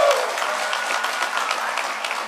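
A conference crowd at DEF CON 20 claps in a steady dense burst of applause, filling the room evenly for a couple of seconds.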